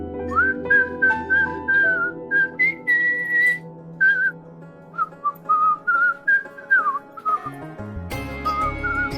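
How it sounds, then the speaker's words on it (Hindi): A person whistles a melody indoors in a home, clear and fairly close, in a run of sustained tuneful notes with short pauses, and a louder clatter of other sounds comes in near the end. "सीटी का आवाज आ रहा है।"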